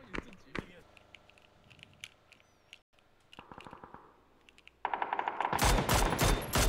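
Rapid bursts of automatic gunfire from a video game, with a quieter stretch of shots early on, then dense, loud sustained firing toward the end, heard under players' excited voices.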